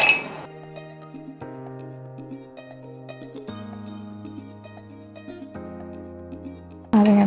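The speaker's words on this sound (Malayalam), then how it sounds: "Ice cubes നിറച്ചിടാം." Ice cubes dropped one after another into a tall narrow glass for a mojito, a series of bright ringing clinks with lingering tones, close and clear, ending in a louder clatter.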